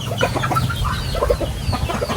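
Several chickens cluck close by in short, overlapping bursts, with soft low rustling underneath.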